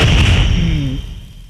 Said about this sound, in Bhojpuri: रामायण साला दोगला पुलिस वाले पे गोली चलाता है।